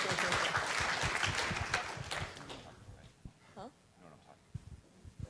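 An audience at a Microsoft Ignite 2015 Exchange session claps for about two seconds, fairly faint, then the applause fades into quiet room noise with a few scattered sounds.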